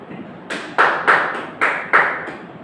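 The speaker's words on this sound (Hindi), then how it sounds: "ताली बजाओ।" An audience claps in a handful of slow, spaced, loud sharp claps, about six in all, each ringing briefly before the next.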